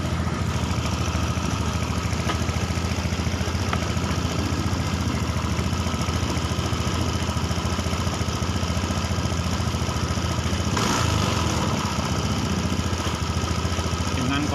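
A Honda Beat eSP scooter engine idles with a rough, sputtering running fault; the steady, buzzing motor drone runs continuously and close throughout, with a brief louder surge near the end.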